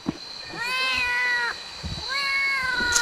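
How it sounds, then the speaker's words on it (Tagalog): A cat meows twice, clear and close, each call a drawn-out whining cry with a short pause between. "Sarge, may pusa, Sarge."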